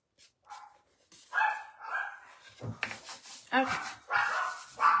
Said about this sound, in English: I'm sorry if y'all hear my dogs barking.